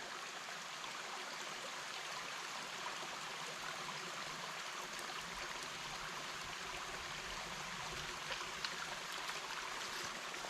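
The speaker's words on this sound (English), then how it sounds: "Just listening to the creek." A creek flows steadily in open country, a continuous soft rushing and babbling of water, even and close, with no voices.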